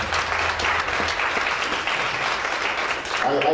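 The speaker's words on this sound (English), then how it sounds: "That is the round of applause" Dense, sustained applause from a crowd at a student council inauguration ceremony, loud and continuous for the whole stretch.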